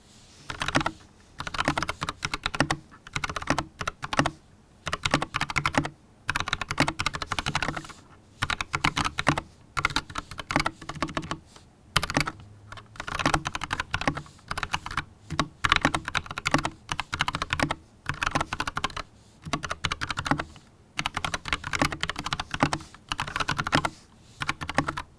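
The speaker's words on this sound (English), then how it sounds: "I love the tactile feel because it gives you a bit of the feedback when you're typing." Rapid keystrokes on a custom mechanical keyboard with tactile switches and a white case, close and crisp, in steady bursts with short pauses, no voices.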